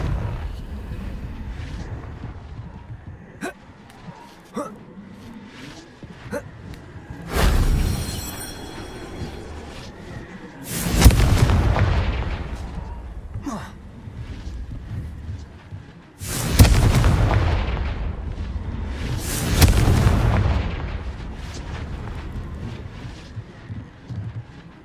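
Confringo fire spells explode in Hogwarts Legacy, with several heavy booming blasts spaced through the stretch over softer game effects and background ambience.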